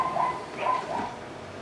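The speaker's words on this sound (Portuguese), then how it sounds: "O cachorro tem que latir, tem que incomodar mesmo." A dog gives a few short barks and yips at a moderate distance, brief bursts separated by quiet moments.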